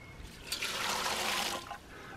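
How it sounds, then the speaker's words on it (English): A rush of clean water flushes through a Coanda screen, a broad hissing gush that swells for about a second and then tapers to trickling, close and fairly loud. "Let's flush it again with clean water and see how well it takes all that stuff off of there."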